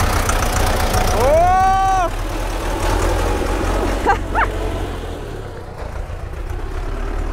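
Tractor engine running in a village farmyard as the throttle is pressed, a continuous low rumble with a rising, whining rev early on, and a voice is briefly heard.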